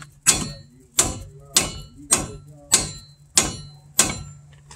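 A car strut being replaced is struck hard by hand with a hammer, seven sharp metallic blows in an even rhythm, each ringing briefly before the next.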